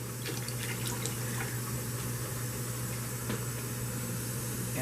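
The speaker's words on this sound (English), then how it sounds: "Again, put as much water as you want." Water runs steadily into a pot holding two pounds of dried pinto beans being readied for a quick boil, a continuous close, even trickle with a faint dripping texture and no talking.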